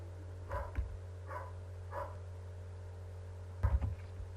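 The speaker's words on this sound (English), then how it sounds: "apologies for the dog in the background" A dog barks several times at a distance, a few separate muffled woofs spread out over a steady background hum.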